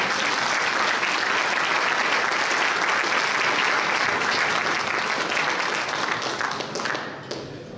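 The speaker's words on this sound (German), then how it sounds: "kurzen Applaus für die Kliniker" Applause for clinic staff at the topping-out ceremony of the new Klinikum Schwabing hospital building in Munich, a steady, dense burst of many hands clapping throughout that thins and fades near the end.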